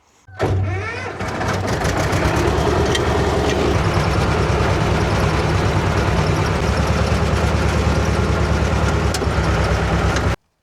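A tractor engine starts up and runs with a loud, steady diesel rumble close by, holding an even drone for about ten seconds before cutting off abruptly.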